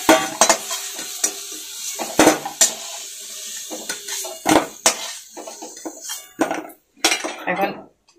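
Potatoes frying in oil are stirred in a pan, with repeated sharp scrapes and clanks of a utensil against metal over a light sizzle, close and uneven in rhythm.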